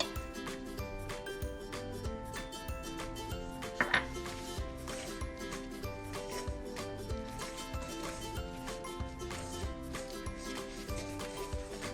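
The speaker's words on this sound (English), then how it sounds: "I first am going to mix the cream cheese with the sugar and vanilla extract" Cream cheese is worked together with sugar and vanilla extract in a bowl, giving quiet, repeated scraping and rubbing strokes with a light clink of utensil on dish partway through.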